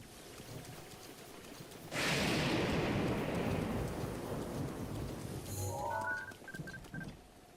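A thunderstorm in Zelda: Breath of the Wild: a loud thunder crack bursts in and rumbles away over steady rain, followed by a few high chiming game tones near the end.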